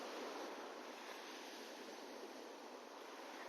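Sea waves at Visakhapatnam port wash steadily in a continuous, broad hiss of surf and water, faint and unbroken, with no voices.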